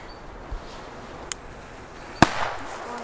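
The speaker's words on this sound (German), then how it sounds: "Boah, die D-Böller sind auch gut, ey." D-Böller firecrackers go off during an outdoor pyro session in the Czech Republic: a couple of faint distant pops, then one sharper bang with a brief rumbling tail, set against low background hiss and no talking.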